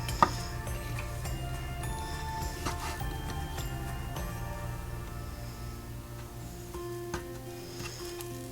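Kitchen knife slicing vegetables and mushrooms on a cutting board for Japanese nimono, heard as a few sparse, sharp chops spread over a steady low hum.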